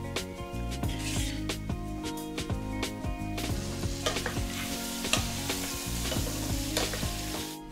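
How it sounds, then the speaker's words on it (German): Chicken pieces sizzle and fry in a OnePot multicooker, a steady close crackle punctuated by repeated scraping stirs and clatters, with no talking. "und ein paar Minuten erstmal vor sich hin brutzeln lassen"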